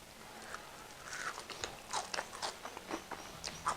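Close, crisp bites and crunchy chewing of an air-fried onion ring, a quick series of crackling crunches heard alone and fairly quiet.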